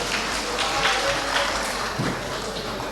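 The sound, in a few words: audience applause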